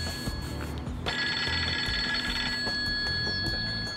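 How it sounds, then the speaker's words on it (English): A telephone bell rings out loudly outdoors by a carp fishing lake, a sustained shrill ring starting about a second in and continuing under faint background noise. "I'm going to go and answer the phone now."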